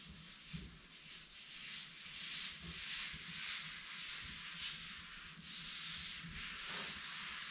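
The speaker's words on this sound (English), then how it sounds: "And just gently scrub it in." A scrub pad gently rubs oil into a wooden cutting board, giving a steady, soft rasping scrub in repeated back-and-forth strokes, close and fairly quiet with no talking.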